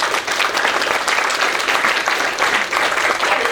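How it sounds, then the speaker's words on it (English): A conference audience applauds a panel at a gender session, with dense, even clapping from many hands that holds strong and continuous for several seconds. "So the applause was definitely warranted."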